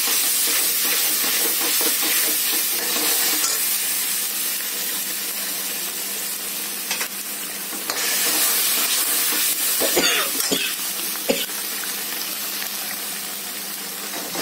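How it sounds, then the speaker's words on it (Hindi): Dal makhani masala with green chillies fries in a pan with a loud, steady sizzling hiss, with occasional spoon knocks as it is stirred. "इसको धीरे धीरे भूनते रहेंगे 10 मिनट।"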